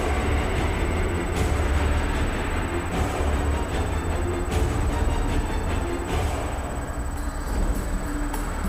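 A train rolls along steadily with a continuous heavy rumble and faint rail clatter, its loud, even noise filling the whole stretch with no voices.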